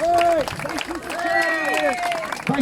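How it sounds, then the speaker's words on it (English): Audience applause at a gathering where an abuse survivor has just shared his story, with a loud voice calling out over a dense crowd throughout the short burst. "give this man a round of applause"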